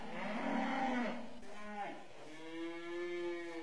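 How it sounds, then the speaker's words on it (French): Cows in a barn or pen low with drawn-out moos, one long call followed by further lowing, close and clear against a quiet background, with no speech. "Nous voilà dans les vaches."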